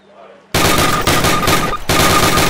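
Automatic weapon fire in Call of Duty 1 on Veteran difficulty, loud sustained bursts with two brief pauses between them, erupting suddenly after a near-silent start.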